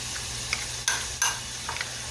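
A tomato pie mixture seasoned with nutmeg being stirred and blended in a pan, giving a few soft scraping strokes over a steady sizzling background, close and brief.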